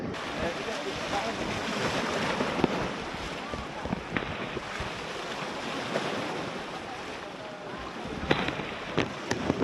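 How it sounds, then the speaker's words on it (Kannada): Ocean waves wash in at Dhanushkodi beach under steady wind buffeting the microphone, a broad rushing surf that swells and eases. "ಅಲೆಗಳ ಸೌಂಡು, ಗಾಳಿ ಬೀಸ್ತೈತೆ ತಣ್ಣಗೆ"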